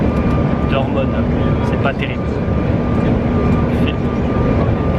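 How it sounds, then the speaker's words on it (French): A small passenger airplane makes a gentle landing, its engines and airframe giving a loud, steady cabin roar throughout while people talk over it. "Là l'atterrissage c'est plutôt doux."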